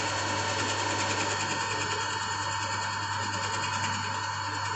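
A machine tool cutting a shoulder on a workpiece, giving a steady, even whirring drone with a constant hum and no breaks.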